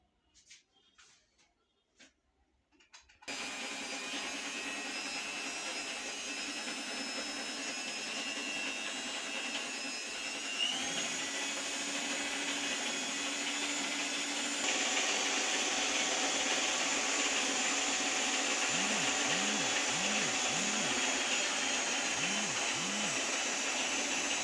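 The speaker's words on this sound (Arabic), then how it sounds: "هنشغل العجان بتاعنا بحيث ان احنا ناكل الزبدة مع السمنة مع السكر الاول قبل ما نحط الدقيق" A stand mixer creaming butter, ghee and sugar for homemade cookies: after a few quiet seconds of soft knocks, the motor starts with a steady whirring hum that continues, rising slightly in pitch partway through, with faint rhythmic thumps of the beater.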